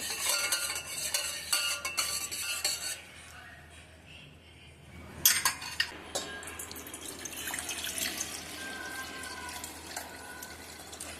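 Coriander sharbat sweetened with jaggery stirred and poured through a strainer, giving close liquid splashes, drips and faint clinks that pause briefly midway, then resume with a sharper burst and a steady trickle; no talking.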